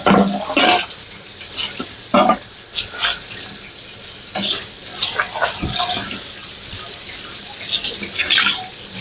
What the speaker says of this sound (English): I'm going to wash this because I'm going to set the meat on it afterwards.